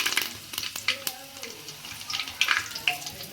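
Curry leaves hitting hot oil with cumin for tomato bath, a loud close crackling sizzle with sharp spits and pops throughout.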